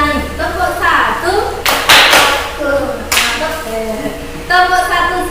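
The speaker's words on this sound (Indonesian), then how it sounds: "Tepuk satu." Classroom of children clapping along to a teacher's counting chant, with bursts of group claps at several points under ongoing speech.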